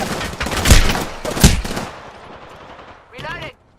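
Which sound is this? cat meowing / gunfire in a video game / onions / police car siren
gunfire in a video game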